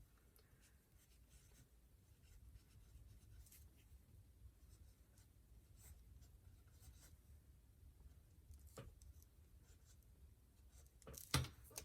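A pen writes in a journal, giving a soft, steady scratching close by in an otherwise quiet room, with a brief louder tap near the end.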